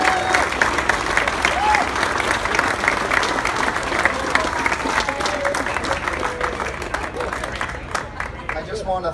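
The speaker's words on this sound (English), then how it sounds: "So a round of applause for everybody involved." A crowd claps and cheers in sustained, dense applause at a ceremony where a restored 1968 Corvette is handed over to its owner, the clapping holding steady for about nine seconds with faint voices mixed in.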